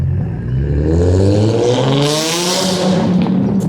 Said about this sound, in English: That loud car is definitely a buck.